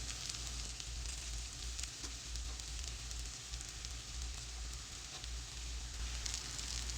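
Sago pearls sizzle steadily in a pan over a low flame for sabudana khichadi, a constant close frying hiss with faint stirring, no talk.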